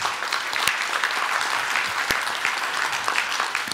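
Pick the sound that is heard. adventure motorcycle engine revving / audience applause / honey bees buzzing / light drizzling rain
audience applause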